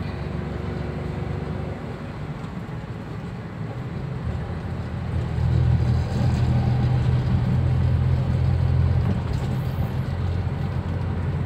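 A Daihatsu Xenia with a 1000cc turbocharged engine cruises in fifth gear, giving a steady low engine drone that swells slightly louder partway through, with road noise and no talk.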